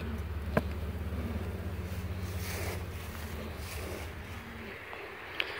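Honeybees drone around a hive opened during a beekeeper's inspection, a steady low buzzing hum throughout with a couple of faint clicks, fairly close and without talk.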